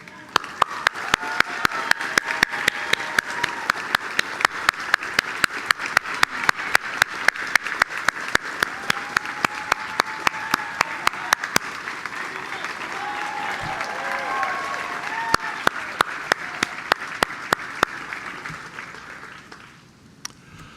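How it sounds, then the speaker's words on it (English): A large audience claps steadily for a retiring city colleague during a State of the City address, dense continuous applause with sharp individual claps cutting through, faint voices underneath, thinning out near the end. "I ask that you all join me in a round of applause for Rick"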